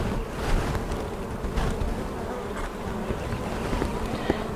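Honey bees buzz steadily around an open spring hive, a dense close swarm drone with a few sharper passes near the microphone and light wind noise beneath, no voices.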